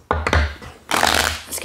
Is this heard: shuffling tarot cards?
yes